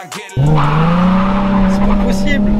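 A Nissan 350Z sports car starts off with a sudden loud engine note that climbs steadily in pitch as it accelerates, close and dominant, with brief voices around it.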